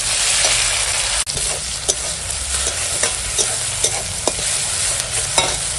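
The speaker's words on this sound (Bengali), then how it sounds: "এখন দিয়ে দেবো এই যে কেটে রাখা টমেটো কুচি আর কাঁচা লঙ্কা কুচি" Chopped tomato and green chili stirred into frying onion in a hot pan, a loud continuous sizzle broken by scraping stirs and small pops, close up with no talking.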